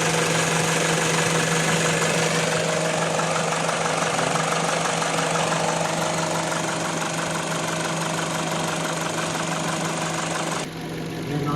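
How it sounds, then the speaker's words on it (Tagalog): Engine of a 2011 Peugeot 207 idling after an hour of break-in, a steady, dense hum with a faint knocking texture, close and even throughout, with a brief dip near the end. "Ito na pong anda ng ating makina."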